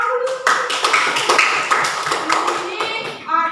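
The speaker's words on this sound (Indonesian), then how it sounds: "Tepuk tangan dulu." Students in a primary classroom break into a round of brisk hand clapping, sharp overlapping claps close by, with children's voices mixed in toward the end.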